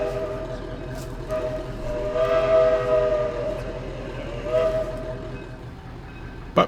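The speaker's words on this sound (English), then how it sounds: "The number 26 locomotive, the Green Hornet, is leaving the shop area to go down the switchback to the main line" The small gasoline locomotive No. 26, the Green Hornet, pulls out of a railway shop area, a steady engine rumble with a rising tonal drone and a brief sharp knock at the end.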